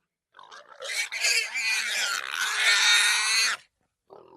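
Pigs on a farm grunting and squealing loudly at close range in one continuous, harsh burst of about three seconds, with nothing else heard.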